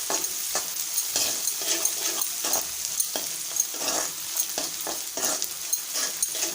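Green chili pieces and onion sauté in a pan with oil, a steady sizzle broken by regular scraping stirs roughly every half second, close and clear with no talking.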